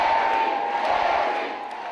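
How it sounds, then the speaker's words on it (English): An enthusiastic crowd at Milwaukee's North Division High School cheers for President Barack Obama, a dense, steady roar of voices in a large room that fades slightly toward the end. "An enthusiastic and Democratic crowd welcomed President Barack Obama and Democratic candidate Mary Burke to Milwaukee's North Division High School."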